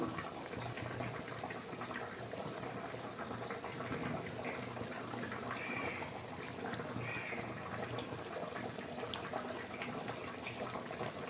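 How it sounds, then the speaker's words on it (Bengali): Fried fish going into a simmering fish curry gravy for rui macher rosha, a steady soft bubbling and sizzling wash that stays even and fairly faint throughout, with no talk. "এবার এর মধ্যে আমি ভেজে রাখা মাছগুলো দিয়ে দিব"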